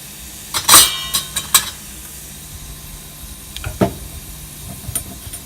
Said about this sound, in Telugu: ఆయిల్ వేడైంది. ఇప్పుడు జీలకర్ర వేస్తున్నాం 1 spoon.